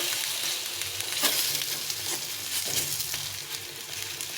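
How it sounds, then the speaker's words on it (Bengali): A stuffed roti shallow-frying in about two spoons of oil in a pan, giving a dense, steady close-up sizzle with faint stirring and scraping, no voices. "এভাবে অপর পিঠটাও এভাবে ভেজে নিতে হবে। একদম কম তেলে 2 চামচ তেলে আমি ভেজে নিলাম।"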